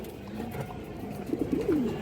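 A club-line pigeon, a hen kept in a loft, gives a short run of soft rolling coos near the end, fairly close, over a low steady background hum.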